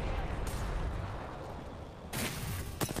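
A sniper shot in a tournament video game cracks out as a sharp burst of fire, followed by another quick report, over a dense, noisy background of battle and game sounds.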